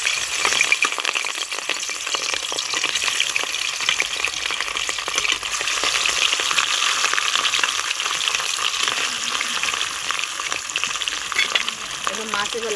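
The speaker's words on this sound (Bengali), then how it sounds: "এবার মাছ এবার লাল লাল করে ভেজে নেবো ভালো করে" Pieces of rohu fish fry in hot oil in a pan, a loud, continuous crackling sizzle with scattered spatters and faint rattles, steady throughout with no talk.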